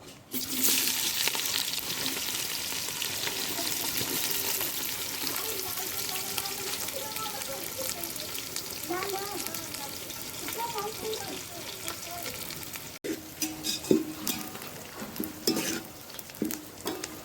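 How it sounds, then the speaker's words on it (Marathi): Chopped onions roasting in a pan over a wood-fired stove crackle and sizzle at a low, moderate level, with stirring scrapes and clinks that get sharper and busier toward the end. "कांदा चांगला भाजून घ्यायचा आहे आपल्याला"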